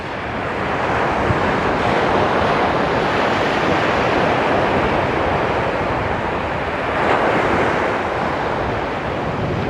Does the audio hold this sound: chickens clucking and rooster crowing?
no